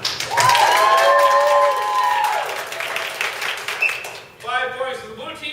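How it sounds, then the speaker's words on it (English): Audience at an improv comedy show screams and applauds, with high shrieking voices over dense clapping that swells loudly, then fades before a fresh burst of cheering. "Audience, I want you to scream and applaud now."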